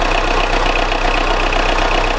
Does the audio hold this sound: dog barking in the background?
no